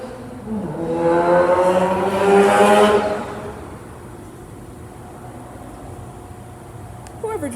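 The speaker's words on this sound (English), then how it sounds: "Whoever just sped past this car wash, I hate you." A car speeds past outside a car wash, its engine note rising then fading over a few seconds as it passes at moderate distance, followed by a steady low background hum.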